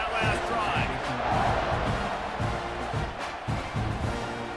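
A stadium crowd roaring at a football kickoff, a broad, sustained wash of cheering and shouting from a large distant audience, continuous throughout with a public-address or commentator voice over it.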